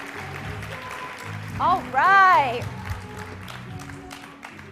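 A conference audience at the Dairy Girl Network event applauds and cheers, with a continuous wash of clapping under a voice and a brief whoop rising above the crowd.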